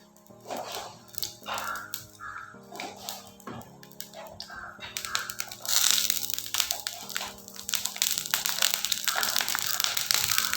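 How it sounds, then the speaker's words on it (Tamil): Mustard seeds splutter in hot oil as the base for a kumquat pickle, giving a dense run of sharp, close crackles and pops that grows busier over time, with music playing in the background. "கடுகு நல்லா பொரிய ஆரம்பிச்சிருச்சு."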